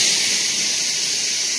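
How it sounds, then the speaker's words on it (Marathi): A kitchen pressure cooker lets off its whistle as a steady, bright hiss of escaping steam that lasts the whole short moment without pause. "कुकरच्या शिट्ट्या चालू आहेत आमच्या"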